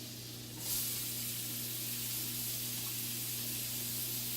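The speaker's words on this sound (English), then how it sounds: "saute this a little bit, get the shallots a little translucent, a little bit soft" Shallots go into melted butter in a pan for a mushroom cognac cream sauce, a sudden sizzle that settles into a steady hiss over a low electrical hum.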